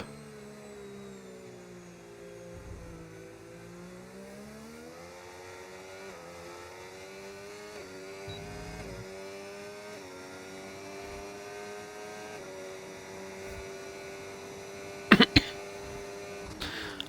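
A Formula 1 car in a video game screams through the final sector of Australia's track on a push lap, its engine rising and falling in pitch through gear changes, steady and prominent, with sharp clicks near the end.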